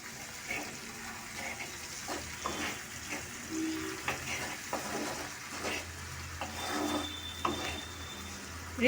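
Onion paste sizzles in a pan over already-fried onions, a moderate crackling fry with intermittent stirring scrapes and soft clinks, no voices.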